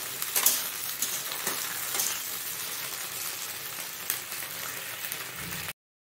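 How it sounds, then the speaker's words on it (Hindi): Okra (bhindi) frying in a pan, a steady close sizzle and crackle with occasional stirring that holds evenly before cutting off abruptly. "हम भिंडी को तब तक भूनेंगे जब तक भिंडी का रंग चेंज ना हो जाए।"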